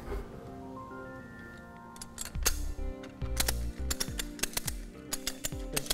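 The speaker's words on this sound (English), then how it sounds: "Just gently raise the lever. It is pulling the strap down tight and securing the load." A ratchet tie-down strap with flat hooks clicks as its lever is raised to tighten the strap, giving a run of sharp, close ratcheting clicks and mechanical clacks with a few louder snaps and no talking.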